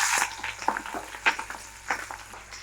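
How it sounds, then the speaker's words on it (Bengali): Chopped onion and chilli fry in hot oil, a close sizzle with bursts of crackling and stirring scrapes that rise and fall in uneven pulses. "এবার তেল দিয়ে দিয়েছি, দিয়ে দেবো এর মধ্যে পেঁয়াজ কুচি আর লঙ্কা"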